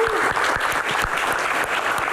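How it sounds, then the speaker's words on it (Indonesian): Lively audience applause greets filmmakers Joko Anwar and Dewi Umaya at a Q&A event, steady close clapping with distinct individual claps throughout, a voice briefly audible at the start. "Kita berikan tepuk tangan yang paling meriah."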